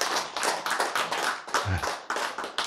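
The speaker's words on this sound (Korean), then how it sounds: "박수" A lecture audience claps together on cue for about two and a half seconds, with dense overlapping hand claps that rise and fade in waves, and a brief low voice murmur briefly sounding partway through.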